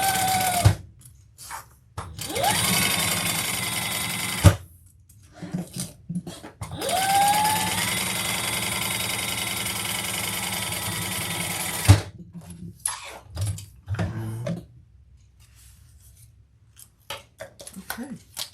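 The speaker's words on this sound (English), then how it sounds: "we're going to stitch across that top stitch" A sewing machine runs top stitching across the top of a fabric bag in several separate bursts of a few seconds each, with quiet gaps and handling clicks between them.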